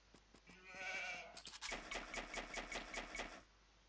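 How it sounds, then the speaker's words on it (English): Sheep bleat in Age of Empires II, a wavering cry followed by a rapid, rattling run of clicks, moderately loud and alone. "Then I'm gonna send in my next couple of sheeps."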